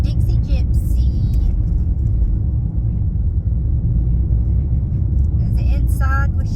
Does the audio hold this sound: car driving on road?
yes